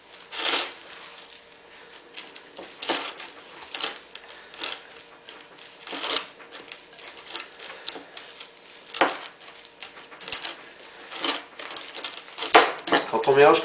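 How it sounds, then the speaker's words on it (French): Chicken meatball mixture squelches and presses under bare hands in a bowl, soft wet squishes repeating irregularly, close and fairly quiet, with a few sharper sticky smacks near the end. "Donc là on mélange bien, et puis on presse en même temps."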